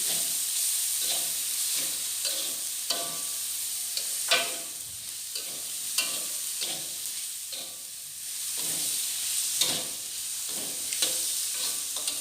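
Sliced onion, tomato, chili and ginger stirred in a sizzling pan, with repeated scraping strokes of a utensil over a steady frying hiss, close and fairly loud, no talking.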